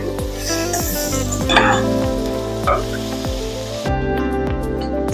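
A side dish frying in a pan is stirred, with a steady sizzle throughout and scraping strokes of the spoon against the pan, while music plays in the background.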